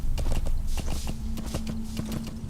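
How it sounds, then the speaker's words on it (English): Horse hooves clip-clop at a walking pace in Metal Gear Solid 5: The Phantom Pain, a close, regular series of thuds with some rustle, no voices. "if we're up on a horse like this, it's easy to be spotted"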